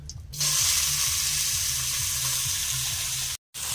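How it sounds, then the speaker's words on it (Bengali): Black cumin and spices dropped into hot oil for mutton kaliya, a loud sudden sizzle that bursts up and then holds as a steady crackling hiss, cutting off briefly near the end. "এরপরে এইগুলো তেলে ছাড়বো।"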